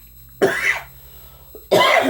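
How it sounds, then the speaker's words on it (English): A person coughs twice, two sharp close-up bursts separated by a brief pause, in a quiet indoor room. "Cannot get rid of this cough."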